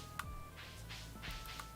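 Phone dialing in the video game Stardew Valley, a short faint run of soft electronic beep tones at low volume.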